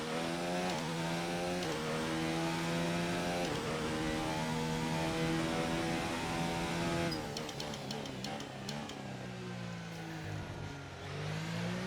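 A Formula 1 car in the F1 2019 racing game screams at high revs with a steady harmonic engine whine, shifting through gears with abrupt pitch drops, loud and continuous without any talk.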